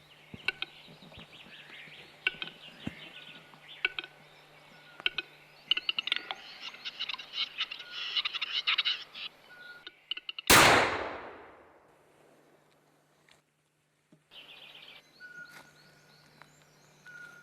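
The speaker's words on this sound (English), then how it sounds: "Lekking is accompanied by stepping from one foot to the other and making many specific sounds." A capercaillie lekking during a hunt in Bulgaria gives a series of faint, dry clicks and taps at irregular intervals. One loud, sharp gunshot follows, then near silence with a few soft sounds.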